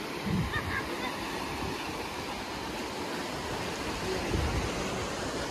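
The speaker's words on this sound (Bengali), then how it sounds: "তুলনামূলক ঢেউ আছে।" Surf rolls in steadily at a beach near Bakkhali and Frasergunj, a continuous broadband wash of breaking waves that stays fairly loud and even throughout, with a faint voice briefly under it.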